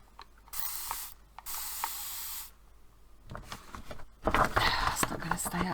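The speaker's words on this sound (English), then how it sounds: "I need to cover up the left hand side and just spray the right hand side." Short hissing bursts from a can of SpectraFix fixative sprayed onto drawing paper, two longer blasts then rapid spurts, with small clicks and rustling between them.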